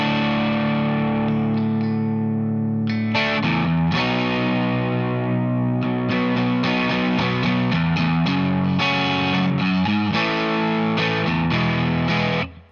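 Electric guitar plays the pre-chorus of a song with a driven, distorted tone: a sustained chord opens, then strummed chord changes ring out loud and close, with a short pause in between, before a final decay.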